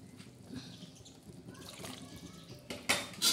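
Spice-paste rinse water is poured into a pan while cooking a bottle gourd curry, giving a faint trickle and light clinks of utensils that grow into a louder, close splash at the end, with no talk.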